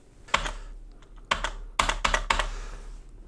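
Keys pressed on a ZX Spectrum keyboard, about five sharp clacks in an irregular rhythm, two in quick succession near the middle, close and clear with no talk.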